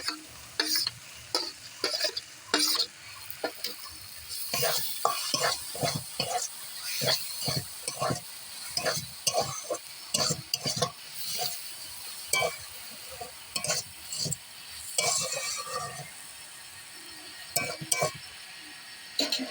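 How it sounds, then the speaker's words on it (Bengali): Coconut paste being stirred and fried in a pan, with repeated scraping and clinking of a utensil against the pan over a soft continuous sizzle, close up and without talk. "এবার আবার কিছুক্ষণ নাড়িয়ে নিলাম তারপর নারকোল বাটাটা দিয়ে দিলাম"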